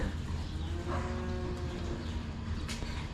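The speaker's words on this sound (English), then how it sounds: "This is our breeding age heifers, and now they're all running out to pasture." Breeding-age heifers moo on a farm as they head out to pasture, with several drawn-out lowing calls overlapping in a loud, busy farmyard and a few bird coos in the background.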